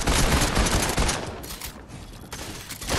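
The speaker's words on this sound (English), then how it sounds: "This kid just spamming with his SMG the entire time" An SMG sprays rapid, dense bursts of gunfire in a video game, loud and close, with short pauses between volleys.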